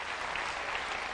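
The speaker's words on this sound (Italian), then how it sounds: "facciamo un applauso" A brief burst of studio audience applause on an Italian television show, a dense, even wall of clapping with no voices over it.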